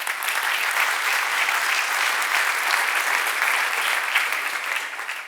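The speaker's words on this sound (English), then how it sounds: "give a big round of applause" Conference audience in Portland bursts into sustained applause, a dense steady wash of clapping from a large crowd that holds at even loudness throughout.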